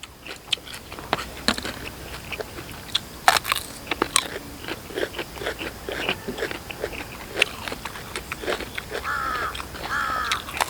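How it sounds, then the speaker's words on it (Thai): Crows caw a few times in the open during an evening meal of spicy Thai-Lao cockle salad with fermented fish sauce, harsh calls rising near the end over crunchy chewing and clatter. "เสียงกา"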